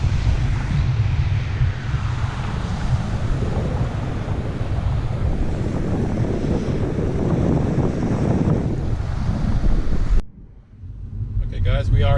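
Steady wind and surf at Chic's Beach, a broad roaring wash with gusty wind buffeting the microphone, continuous and loud for about ten seconds before cutting to quieter road noise.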